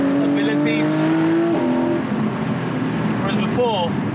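A naturally aspirated 4.0-litre Porsche GTS engine pulls hard under acceleration, its rising harmonic drone steady and loud with a brief gearshift dip, while someone talks over the top.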